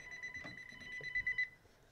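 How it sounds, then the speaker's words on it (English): A faint phone ringing in a room, a short electronic trill with a few quick pulsed beeps, heard alone at a distance. "Phone going off."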